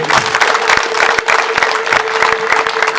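Guests at a Rwandan wedding clap loudly and close by in quick, uneven bursts, the handclaps joined by a steady high ululating tone that runs through the whole stretch.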